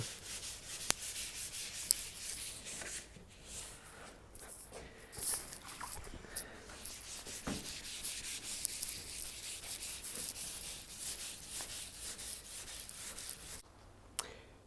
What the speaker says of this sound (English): Okay, so I finished sanding down.